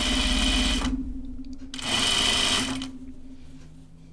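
A home sewing machine stitches a seam on a Carolyn pajama top, running in two steady whirring bursts with a short pause between, close and fairly loud, with no talk.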